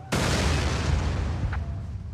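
A single heavy explosion in modded GTA San Andreas booms suddenly and loudly, its broad blast rumbling and decaying over about two seconds.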